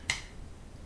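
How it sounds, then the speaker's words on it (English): One sharp finger snap sounds close and clear at the very start, followed by quiet room tone. "And I snapped my fingers and sang that."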